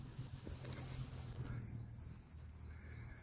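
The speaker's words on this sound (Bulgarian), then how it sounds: "Това е тишина и птичките. Как чоликат." A small bird chirps repeatedly at an abandoned children's camp, a rapid series of thin, high tweets over a quiet outdoor background with a faint low rumble.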